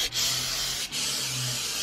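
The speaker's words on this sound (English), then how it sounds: "back to spraying everything." Lysol disinfectant aerosol sprayed around a room, a steady hissing spray running nearly continuously with two brief pauses between bursts, close and fairly loud.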